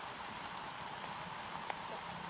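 Steady rain falling on surfaces at night, a faint continuous hiss of drops with no distinct thunderclap, quiet and even throughout.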